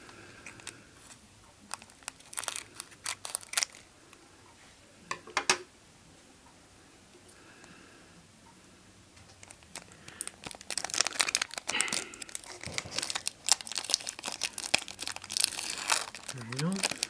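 A Heroscape booster pack is cut open and unwrapped, giving sporadic close crinkles and tearing of plastic packaging, quiet at first and then busier and louder in the second half.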